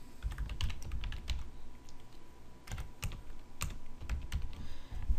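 Code keys clatter on a computer keyboard while setting up a local PHP page, a close, brisk run of uneven key taps with short pauses between bursts.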